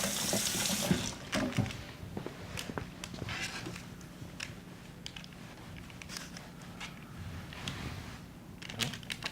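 Running tap water rinsing something in a sink, starting as a loud gush and then continuing as broken splashes and clatter under light background noise.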